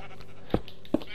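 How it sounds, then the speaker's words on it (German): Sheep in the video game Minecraft gives two short, sharp bleats in quick succession over a low steady background hum. "Mäh, du musst jetzt da langlaufen, ne? Du dämliches Schaf."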